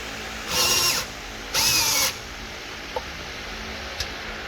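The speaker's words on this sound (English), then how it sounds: "we're going to be drilling these in" Two short bursts of a power drill driving stainless steel screws into a tapped car valve cover, each whirring run lasting about half a second, followed by a couple of faint clicks and no talking.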